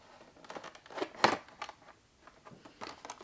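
Plastic and cardboard packaging of a Funko Pop figure being pried open by hand: close, irregular crinkles, scrapes and small snaps, one sharper tearing crack in the middle, without speech.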